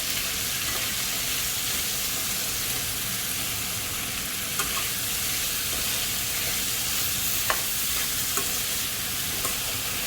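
Chicken egg fried rice frying in a pan with a dense steady sizzle and hiss, punctuated by a few faint scrapes and taps as the rice is stirred.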